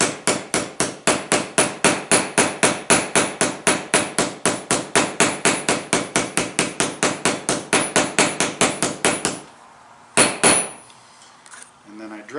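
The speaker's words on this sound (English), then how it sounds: "I give it a little love with the ball peen hammer." Ball peen hammer striking a rivet on a snowshoe binding, a long steady run of sharp, ringing metallic blows at a quick even pace, close and loud, ending with a couple of scattered knocks and handling clatter.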